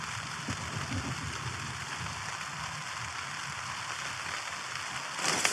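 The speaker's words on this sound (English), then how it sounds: "As you can hear, that rain is here now." Steady rain patters across the open moors beside a bivvy bag and e-bike, a soft, even hiss that holds constant, with a slightly sharper rustle near the end.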